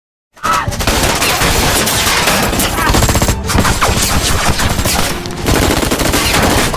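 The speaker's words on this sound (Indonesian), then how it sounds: "Song En pun akhirnya dibombardir oleh gengnya sendiri" Loud, rapid bursts of gunfire in a gangster film scene rattle almost continuously, automatic weapons firing close by with brief gaps between volleys.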